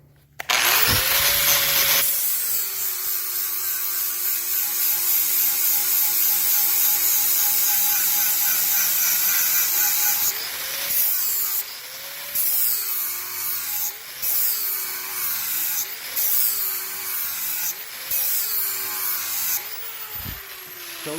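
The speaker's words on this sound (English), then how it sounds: "I've got to grind reasonably straight. Again, just different techniques. Grinding back and forth." A hand grinder worked in back-and-forth strokes, giving a loud, steady whine that rises and dips in a regular rhythm over the second half, with no talking.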